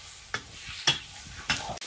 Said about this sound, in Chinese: 把猪肉锅里倒。 好嘞，猪肉下去。